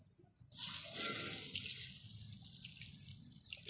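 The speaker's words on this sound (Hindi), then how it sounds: "ये बोतल है जी पानी की, इसके अंदर डालना है आपने" Water pours steadily from a bottle into a pot of millet grains, a full splashing stream that starts abruptly and then settles into a softer trickle, close and alone.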